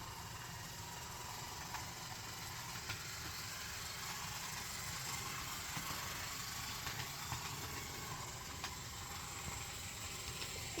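An old 1970s TYCO 'Spirit of 76' model locomotive runs on its track at about three-quarter throttle, giving a faint, steady mechanical whir with small ticks and no talk.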